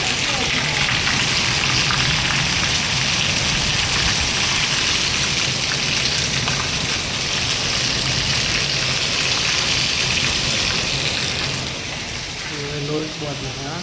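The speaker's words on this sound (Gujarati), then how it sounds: "વરસાદ તો ચાલે" Heavy rain falls steadily outdoors in Gujarat during the monsoon, a dense, close hiss of drops on surfaces that fills the whole stretch, with a person talking faintly underneath near the end.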